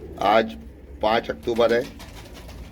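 Royal Teddy pigeons coo low and soft beneath someone talking close by, the calls mostly masked by his voice.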